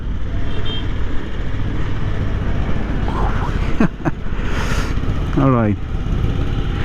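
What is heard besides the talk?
Honda Africa Twin 1000cc twin engine motorcycle idling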